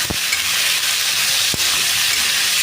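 Grated coconut and potato fry together in a pan for Bengali cholar dal, making a loud, dense, continuous sizzle close by, with a couple of sharp utensil knocks.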